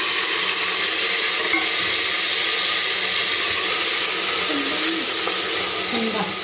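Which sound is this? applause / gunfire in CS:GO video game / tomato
tomato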